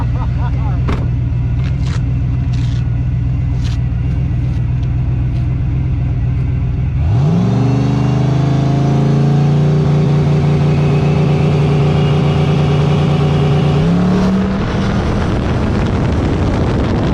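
A race car engine drones loudly and steadily under wind buffeting, then revs sharply upward to a higher, sustained pitch and climbs once more near the end.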